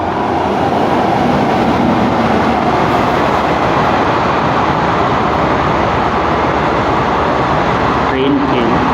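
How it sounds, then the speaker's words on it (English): A train passes nearby with a continuous loud, broadband rumble and rolling roar that fills the whole stretch, heard alone at close range. "train came"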